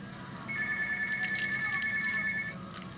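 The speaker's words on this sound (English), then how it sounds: "Better get the phone." A telephone rings indoors in a workshop, one steady two-tone electronic ring lasting about two seconds, fairly clear over quiet room noise.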